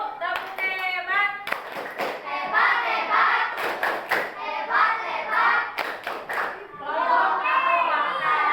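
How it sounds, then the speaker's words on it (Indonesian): Indonesian classroom performing the 'tepuk hebat' rhythmic clapping routine: bursts of sharp group claps in patterned sequences, interleaved with children chanting together, loud and close. "Tepuk hebat dulu. Tepuk hebat."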